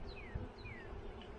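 Honey bees buzzing around an open beehive during an inspection: faint, thin buzzing passes that drift and dip in pitch, heard over a low background rumble.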